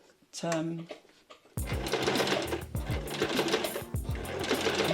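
A sewing machine top stitching a tote bag runs in a fast, loud mechanical chatter with small stops and restarts, after a brief moment of a voice at the start.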